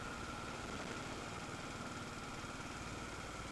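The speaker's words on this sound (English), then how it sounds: "Engines chugging away as these engines do." Engine of a Spitfire car chugging steadily while driving uphill on narrow farm roads, a continuous low, even drone heard from inside, fairly quiet and unbroken.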